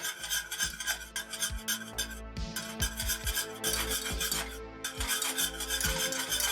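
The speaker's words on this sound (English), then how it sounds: "Definitely want to whisk with a longer handle for this." Apple pie filling bubbling and steaming on the heat while a long-handled whisk works it, making a steady, dense rasping whir with regular rhythmic scrapes against the pan, close and loud with no talk.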